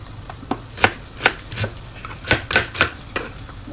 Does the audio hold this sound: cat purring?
no